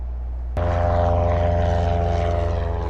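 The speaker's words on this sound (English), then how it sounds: "I've chartered an airplane to fly us over Isla Sorna" A chartered propeller airplane in LEGO Jurassic World kicks in abruptly and drones loudly and steadily, its engine hum thick with a low buzzing rotor pulse and no talking over it.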